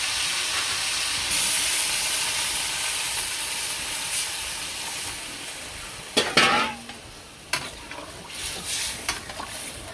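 Fried vegetables sizzling steadily in a hot pan with stirring, broken by a loud burst of hissing and spitting as broth is poured in, followed by scattered scraping and utensil knocks.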